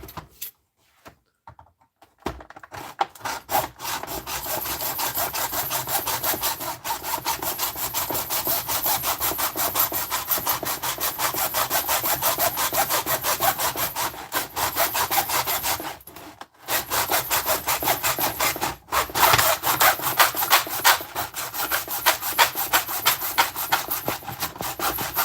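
A hand saw rasps steadily through material on a workbench late at night, a loud, continuous run of rapid strokes with one brief pause midway before the cutting resumes.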